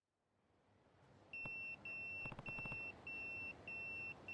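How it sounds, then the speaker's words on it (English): A pager beeps in the video game Yakuza 0, a series of five or six evenly spaced electronic two-tone beeps, clear and steady over faint background hiss. "That's my beeper"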